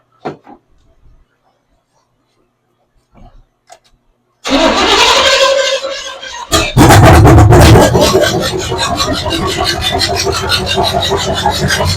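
A 1982 Chevy pickup with a formerly locked-up motor, fed gas through the carburetor, cranks and roars briefly after a quiet stretch, cuts out, then catches again and runs loud and steady to the end.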